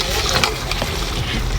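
Chicken biryani sautéing in a pot outdoors in a park, a steady close sizzle and frying hiss with faint stirring scrapes, going on continuously while a voice talks over it.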